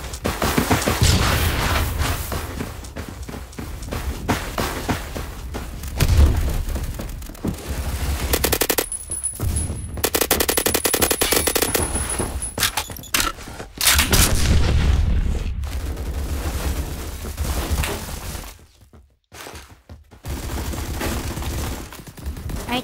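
Gunfire and a grenade explosion from Phantom Forces gameplay: dense, continuous rapid automatic fire with heavy booming blasts, loud and sustained, with brief pauses before the shooting resumes.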